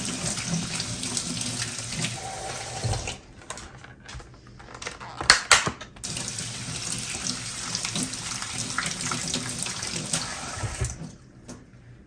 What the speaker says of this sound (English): I've got some raspberries, some blackberries, and some blueberries I'm going to wash up real quick